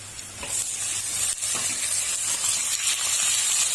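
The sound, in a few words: meat sizzling as it is added to the hot pot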